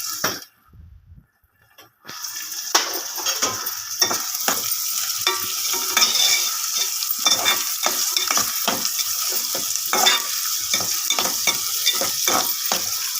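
Goat blood fry with turmeric crackles in a hot pan, a brief quiet pause then a dense continuous sizzle with frequent stirring knocks and spits, close and loud, without talk.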